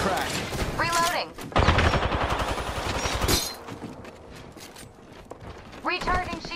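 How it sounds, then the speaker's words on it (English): Gunfire in the battle-royale shooter Apex Legends, a burst of rapid cracking shots packed into the middle of the clip, mixed with game sound effects and voice callouts before and after. "Getting shot at."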